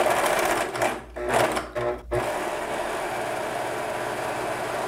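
A sewing machine gathers tulle fabric with a steady, close whirring hum, broken by brief stops early on and then running on without a pause.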